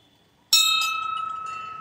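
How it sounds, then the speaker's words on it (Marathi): A single bell at a Hanuman temple is struck once, giving a sharp bright clang that rings on with a sustained, slowly fading shimmer, close and clear after a quiet moment. "बेल वाजव."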